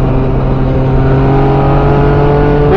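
A Yamaha MT-09 motorcycle accelerating hard at highway speed, a loud steady engine drone with rising pitch and strong wind rush, heard close from the rider's position without talk.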